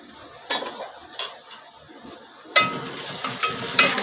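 Garlic paste fries and sizzles in hot tempering oil, with a few sharp spoon-stirring scrapes and clinks of a pan standing out over a steady crackle, close up.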